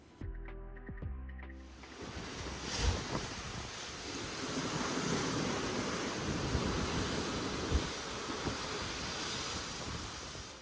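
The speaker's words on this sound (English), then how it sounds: "the waves that come in and crash along the jagged shoreline" Ocean waves crash steadily against a jagged rocky shoreline in Curaçao, a loud continuous roar of surf and spray with gusty wind buffeting the microphone.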